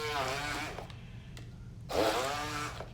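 A small handheld food processor whirs in two short bursts while pureeing mango, its rising motor whine starting and stopping with a quiet pause between.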